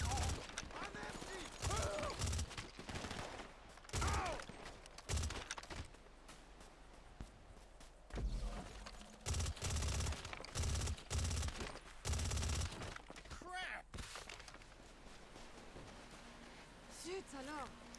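Rapid automatic gunfire and scattered single shots ring out in the GTA Online video game, coming in repeated loud bursts with pauses between them, while players talk over the shooting.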